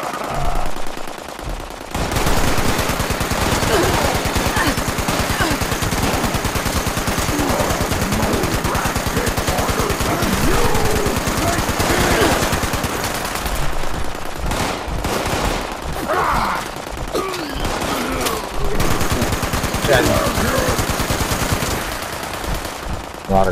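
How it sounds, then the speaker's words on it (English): The player's gun in Fallout 76 fires in long, rapid automatic bursts that are loud and close and carry on for most of the stretch, with brief pauses and some talk mixed in. "This fucking gun is just accurate as fucking hell."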